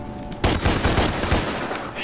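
Rapid bursts of video game gunfire in Devil May Cry, a dense volley of shots that starts abruptly and keeps going as a loud, continuous fusillade.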